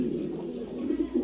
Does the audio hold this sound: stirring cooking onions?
no